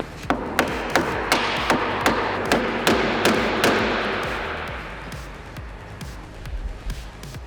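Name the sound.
mallet tapping a guitar neck into place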